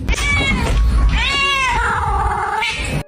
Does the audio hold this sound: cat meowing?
yes